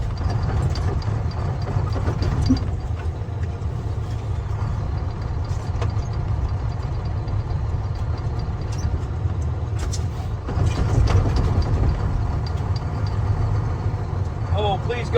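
A vehicle hauling a log home in remote Montana wilderness grinds a steady, heavy low engine drone while its wheels spin, stuck, with people talking over it throughout.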